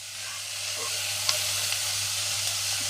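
Ivy gourd (dondakaya) pieces fry in a pan, a steady close sizzle running throughout, with a few faint scrapes of stirring and no talk.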